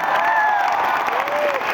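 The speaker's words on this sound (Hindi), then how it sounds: "एक बार उनके लिए तालियां होनी चाहिए" An audience applauds at a business success event, a dense and steady wash of clapping with a voice rising over the crowd.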